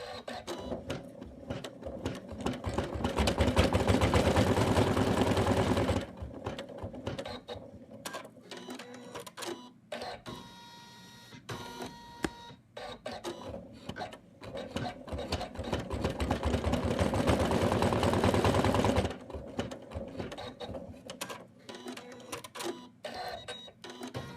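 An embroidery machine stitches an in-the-hoop Santa design in a steady, loud, rapid mechanical whir with regular needle thumps. It stops for a few seconds in the middle, with scattered clicks and handling, then runs again before stopping.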